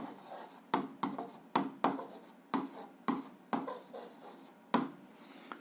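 Writing out an algebra exercise on a board or paper, a series of short scratchy strokes in irregular bursts of about one per second, close and quiet, with no talking.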